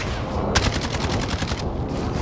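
Automatic gunfire from a CR-56 AMAX rifle in Warzone rattles in a rapid burst of about a dozen evenly spaced shots over steady game background noise.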